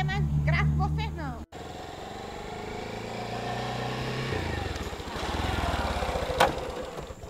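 A faltering motorcycle engine drones steadily at moderate loudness, its low hum dropping out partway through while the rough running continues, with a voice briefly audible at the start.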